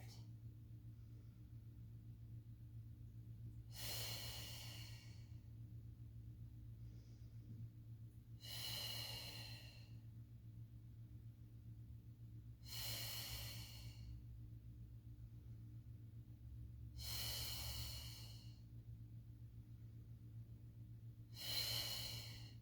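Paced breathing during a Pilates mat exercise, five sharp close breaths at regular intervals about four to five seconds apart, with quiet hum between them and no talk.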